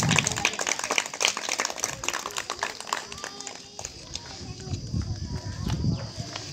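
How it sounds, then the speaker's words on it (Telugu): An audience at an Independence Day celebration claps to welcome a guest, a dense burst of applause that fades after a few seconds into voices and crowd murmur. "అందరం చప్పట్లు కొట్టి మనము ముందుకు ఆహ్వానించుదాము"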